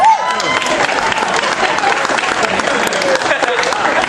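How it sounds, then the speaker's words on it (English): Loud, sustained applause from an audience honoring high school students at a public event, dense clapping with some crowd noise continuing steadily throughout. "Give them a round of applause."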